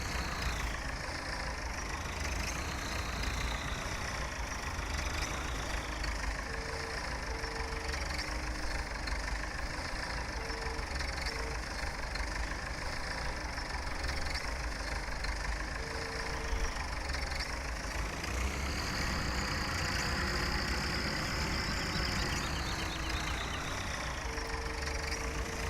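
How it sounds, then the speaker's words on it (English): A tractor pulling a plough in Farming Simulator 17 runs a steady, droning engine at constant level, with faint tonal whines and beeps rising over the hum. "Tractor almost down at the yard now with the plough on"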